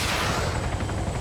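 Helicopter minigun in ARMA 3, a dense, continuous roaring burst of rapid fire, loud and close, filling the whole moment without pause.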